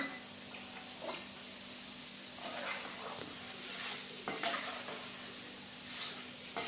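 Dal frying in hot oil in a pan while making Diwali masala chivda, a steady close sizzle and hiss with occasional light clicks of stirring throughout.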